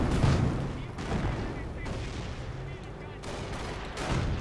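Gunfire in the World War II strategy game Company of Heroes, where a tank battle is under way: a loud opening report, then a dense, sustained stretch of crackling battle noise with further bursts.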